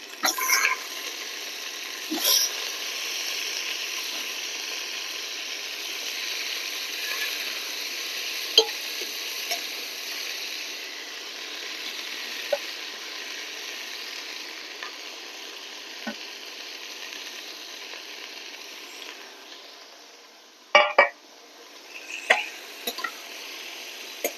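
Cut bitter gourd and potatoes hit a pan of browned chopped onion and garlic and fry with a steady, soft sizzle, broken by a few sharp clinks of stirring near the end.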